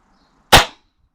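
A single sharp rifle shot from a budget rifle at a shooting competition cracks out loud and close, then decays quickly into silence.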